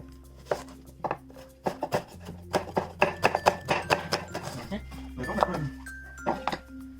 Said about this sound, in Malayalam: ഇതെല്ലാം ഒന്ന് സ്ലൈസ് ചെയ്തെടുക്കാം.